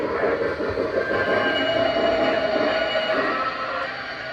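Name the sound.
Lionel Legacy model train running at slow speed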